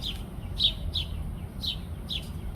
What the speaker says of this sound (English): Look at that little baby begging.